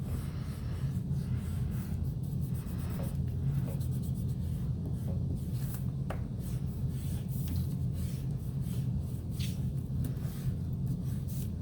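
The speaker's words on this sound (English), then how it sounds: "Just take a good eraser and you're going to erase all those extra pencil lines." An eraser rubs out pencil lines on paper in quick, repeated scrubbing strokes, close and fairly faint over a low steady background hum.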